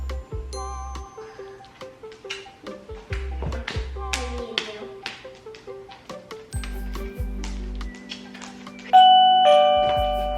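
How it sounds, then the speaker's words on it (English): Bell rung as a stand-in for a voice, sounding in short repeated strikes amid a busy mix of music-like tones, taps and other sounds, with moderate loudness throughout. "They have a bell."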